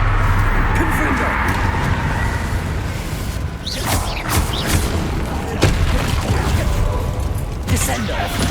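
Confringo fire-blast spell from Hogwarts Legacy detonating amid dense game noise: a loud, sustained roar of booms and crackling whooshes with repeated bursts, heavy and continuous throughout.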